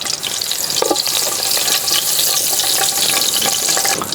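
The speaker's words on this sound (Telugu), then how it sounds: "నూనె గరం అయిన తర్వాత బండపువ్వు వేసుకుందాం." Spices go into hot oil for a goat head curry and set off a loud, steady sizzle with bubbling crackle and stirring, heard close up throughout.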